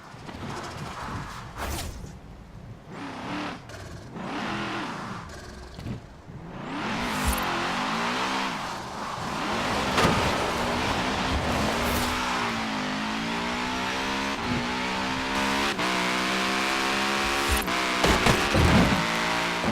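A car in the Forza Horizon 4 video game revs and slides through a handbrake drift, engine pitch sweeping up and down loudly with tire noise over about twenty seconds, with no talk.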